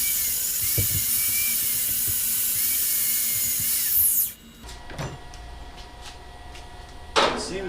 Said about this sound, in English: Let's clean this burr off of this one.